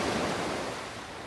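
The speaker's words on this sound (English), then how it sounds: "In the gently lapping waves of Sangatte Beach in France" Gentle sea waves lapping on Sangatte Beach in France, a steady, continuous wash of surf noise, fairly close and evenly loud throughout, with no voices.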